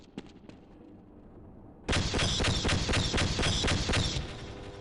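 A sustained burst of assault rifle fire in Half-Life erupts suddenly after a few faint clicks, loud and rapid for about two seconds before cutting off.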